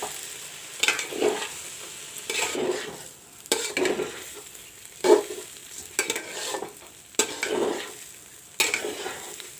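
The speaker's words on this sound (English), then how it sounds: "Now I will fry the rice along with the potatoes and the soya chunks." Rice frying with diced potatoes and soya chunks in a pan gives a soft, steady sizzle, broken every second or two by clattering spoon strokes against the metal.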